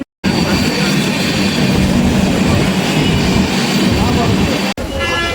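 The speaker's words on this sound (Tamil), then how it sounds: "நம்ம ஏற வேண்டிய ட்ரெயின் ஒரு வழியாக வந்துருச்சுங்க" A passenger train on the Chennai to New Jalpaiguri route arrives at a station with a loud, steady rumble and clatter that fills the whole stretch, broken once by a brief dropout.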